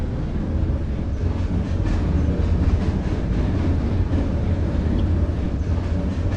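A train runs steadily along the rails just after pulling out, a continuous close rumble with faint rhythmic clatter of the wheels and no pauses.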